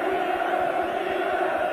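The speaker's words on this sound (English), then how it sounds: "The crowd have forgotten the game now. They're just providing the fitting farewell to Kevin Keegan." A football crowd at a 1984 Newcastle United versus Brighton and Hove Albion match roars in a steady, dense wall of voices as a farewell to Kevin Keegan, continuous and unbroken with no single voice standing out.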